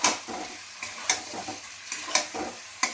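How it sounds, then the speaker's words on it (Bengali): Spiced potato curry cooking in oil in a pan, with a spatula scraping and stirring in several quick strokes over a steady close sizzle. "তেল বেরিয়ে গেছে চারদিকে, দেখেছেন, তার মানে আমার মশলাটা আলু দিয়ে ভালো করে কষা হয়ে গেছে"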